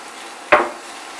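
A single short scrape of a utensil stirring grated fresh ginger into browning onions in a pan, one brief close burst over a quiet background.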